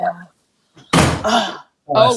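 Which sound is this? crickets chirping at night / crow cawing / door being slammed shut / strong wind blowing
door being slammed shut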